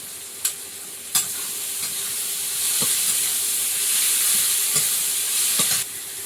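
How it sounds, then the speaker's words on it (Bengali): Turmeric, cumin, coriander and salt masala sizzle in a pan with a splash of water, a loud continuous frying hiss with occasional sharp spatula clicks against the pan, no talking. "একটু জল দিয়ে মশলাটা কষিয়ে নেব"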